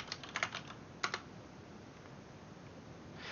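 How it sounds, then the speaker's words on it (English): Password typed on a computer keyboard during server setup: a quick burst of close keystroke clicks at the start, a second short cluster near one second, then quiet room tone with no voices. "Type in the password again."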